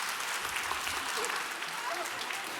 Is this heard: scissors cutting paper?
no